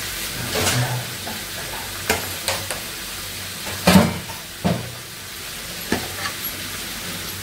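Curry frying with spices in a pan, heard as a soft, steady sizzle with intermittent clinks and scrapes of a spoon stirring, close and alone with no talk.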